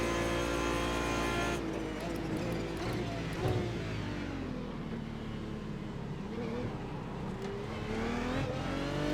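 GT1 race car engine lapping Phillip Island in iRacing, a continuous close-up engine drone whose pitch rises and falls through gear changes and revs, with a voice talking over it.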